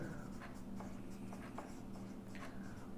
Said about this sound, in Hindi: तो हम लिख देंगे पाइथागोरस